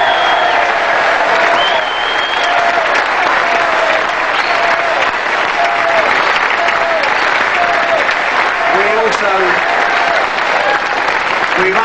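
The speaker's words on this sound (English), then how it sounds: "I'd like you to give yourself a round of applause first" Sustained applause from a large crowd in a Cardiff arena at a world professional pool championship, loud and continuous throughout, with some voices and faint whistles mixed into the clapping.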